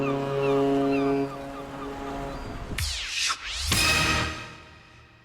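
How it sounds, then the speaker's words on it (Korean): A ship's horn sounds in a long, low blast from afar, followed by the broad whoosh of ocean waves washing in. "좋은 지향성 마이크로 멀리 지나가는 배의 기적 소리까지"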